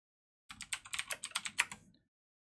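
Close, crisp typing on a computer keyboard: a quick run of about a dozen keystrokes lasting under two seconds in an otherwise silent room.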